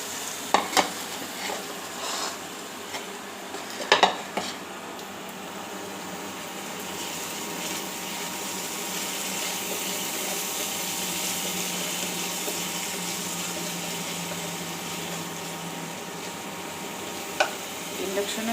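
Raw spices fry gently in a pan on an induction cooker with a soft, steady sizzle, with a few clinks and scrapes of stirring early on and one near the end.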